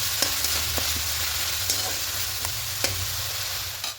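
Ginger, garlic and onion paste stir-frying in a pan for a potato and cauliflower roast, a steady close sizzle with light intermittent spatula taps and scrapes, no talk.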